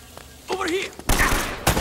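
Enemy gunfire in Uncharted: Drake's Fortune, a voice groaning briefly before two loud bursts of shots crack close by, the second shorter than the first.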